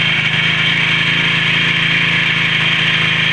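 A 4-stroke grass cutter engine runs steadily during break-in, a loud, close, continuous mid-pitched drone with a buzzing edge and no change in speed, heard alone without talk.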